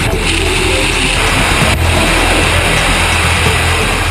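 Michelin test car driven hard around a track until its tyres lose grip, a loud, steady engine roar running throughout with no gaps.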